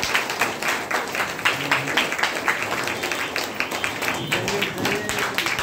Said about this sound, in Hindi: जोरदार तालियां बननी चाहिए हमारे आगे के लिए।